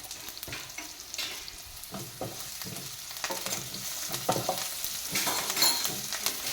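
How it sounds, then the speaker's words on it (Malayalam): Frying in oil in a pan for moru curry, with shallots, garlic and fenugreek, makes a continuous close crackling sizzle broken by frequent stirring scrapes that grow a little louder toward the end, and no one speaks. "നല്ലതുപോലെ ഫ്രൈ ചെയ്തെടുക്കുന്നുണ്ട്."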